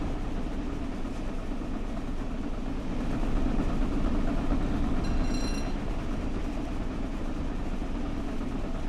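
Flying Scotsman steam locomotive gathering speed in Train Sim World 5, a steady rumbling roll of wheels and machinery with a constant dense roar and a brief whistle-like tone midway.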